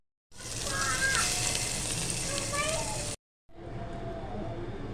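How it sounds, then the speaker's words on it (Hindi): Ginger garlic paste and finely chopped green chili frying in hot oil give a steady, close sizzle that starts abruptly, runs for about three seconds, cuts out briefly and then resumes. "ये इसको हम ऑयल में अच्छी तरह से फ्राई करेंगे"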